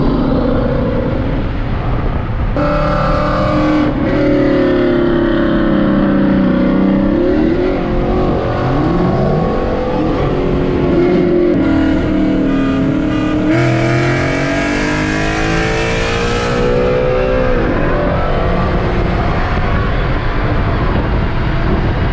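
A loud Ford Mustang engine roars and revs on a highway, its pitch climbing and shifting through gears as it accelerates past, steady and close the whole time.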